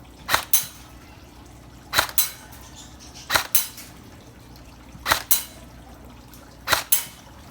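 Budget Double Bell 807 SCAR H airsoft electric gun firing 0.30 g BBs on semi-auto with an 11.1 V LiPo: five paired sharp snaps, each shot a quick double crack, spaced about every one and a half seconds, close and clear.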